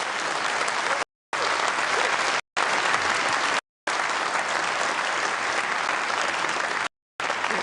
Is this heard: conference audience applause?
yes